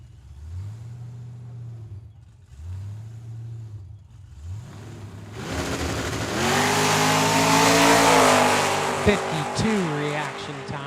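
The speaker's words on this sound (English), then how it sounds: "Right side, the Mustang taking the solo shot here." A Ford Mustang making a solo drag racing run down a dragway: a few short engine revs at the line, then a loud sustained wide-open roar with rising engine pitch as the car launches and pulls away.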